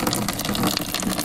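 Water gushes steadily into a brewing pot as strike water is filled for an all-grain IPA mash, a continuous loud rushing pour with no voices.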